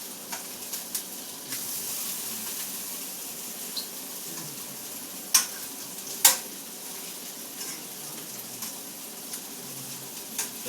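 Sausages fry in a pan beside a thick breakfast burger patty, giving a steady, moderate hiss with occasional sharp pops and clicks, close up and with no talking.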